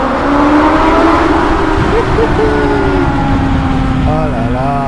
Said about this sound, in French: on va réécouter un petit peu ce 4 cylindres qui fait un bruit de malade